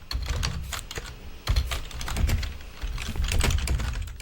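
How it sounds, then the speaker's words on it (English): Rapid, continuous clatter of keys on a computer keyboard, fast and busy with no pauses, close up. "I hear some furious typing"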